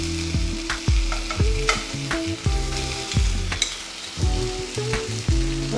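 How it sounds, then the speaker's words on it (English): Chicken thighs in butter, pepper and soy sauce sizzle steadily in a pan, loud and close, with repeated clunks and scrapes of a utensil stirring and turning them. "just let it fry on the pan."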